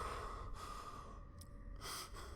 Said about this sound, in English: Stop heavy breathing